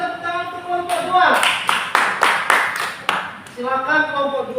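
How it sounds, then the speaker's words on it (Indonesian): Students in a classroom break into a short burst of applause for group 2, a few seconds of rapid, fairly loud clapping set between voices speaking before and after. "ayo kita tepuk tangan untuk kelompok 2"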